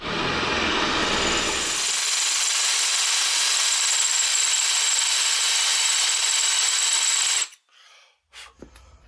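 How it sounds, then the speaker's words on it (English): A power drill grinds steadily through a metal bearing collar on a Jeep JKU Dana 44 axle for several seconds, a loud continuous whine, then stops abruptly, followed by a few faint clicks and taps. "Got a larger drill bit now. I'm gonna take it the rest of the way."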